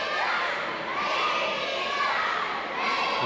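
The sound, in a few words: wrestling crowd shouting and cheering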